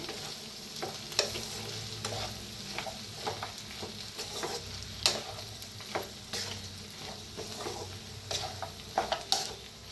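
Salted cooked rice being stirred in a pan, a soft continuous sizzle with repeated scraping and tapping of a spoon against the pan, no voices.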